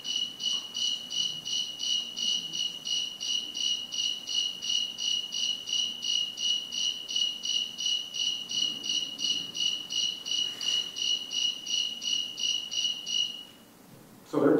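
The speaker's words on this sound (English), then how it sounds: "Even if it doesn't exist in that particular area, they'll put in the snowy tree cricket." Snowy tree cricket at 76 degrees Fahrenheit gives a steady, evenly pulsed chirping, regular rapid beats repeating for about thirteen seconds before stopping, moderately faint with no talk.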